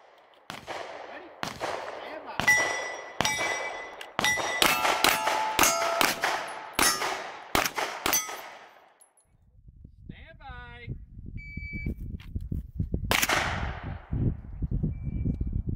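Gunfire rings out at a competitive steel shoot, each shot followed by a sharp metallic clang of bullets striking steel targets, in rapid strings with short pauses, with a spoken range command near the end.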